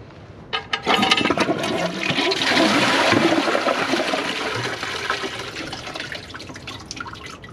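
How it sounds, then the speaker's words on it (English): Close, loud flush of a Kohler Wellworth Class 5 toilet with a Portrait Lite tank, run on a low water level, opening with a sharp surge that settles into a long draining rush. "Here's the flush with a low water level."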